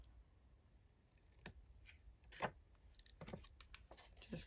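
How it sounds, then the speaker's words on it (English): Scissors trimming the paper sides of an antique ledger: a few faint, brief snips and rustles spaced over several seconds, close but quiet against low room noise. "Just going to trim both sides a tad."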